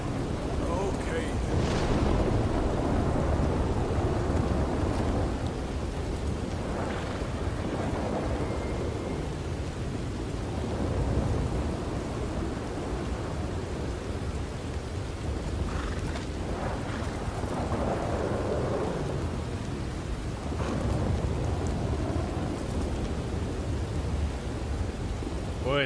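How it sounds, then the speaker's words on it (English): A steady thunderstorm in Red Dead Redemption 2, with rain hissing over a low rumble of thunder. Several louder rolls rise and fade across the clip, and someone talks over the storm. "Boy, this storm don't look like it's going to let up anytime soon."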